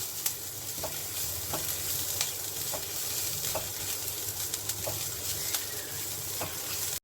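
A medium onion frying with whole cumin in a pan for a pointed gourd dish, a continuous close sizzle with regular spatula taps and stirs, no voices.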